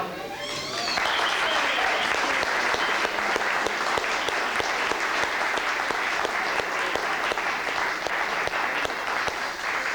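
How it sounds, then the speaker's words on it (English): Audience at a Battle of Bunker Hill community meeting bursts into sustained applause and cheering, loud dense clapping that holds steady for several seconds after a brief voice at the start. "we want to really give them a big cheer"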